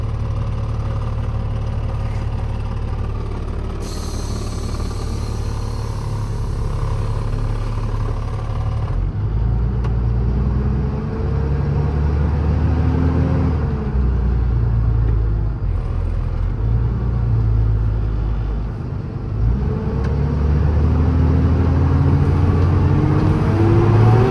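A 2016 Kenworth T270 truck with air-ride rear suspension drives down the road; a steady loud low engine rumble and road noise continue throughout, with gear changes audible as shifting engine pitch.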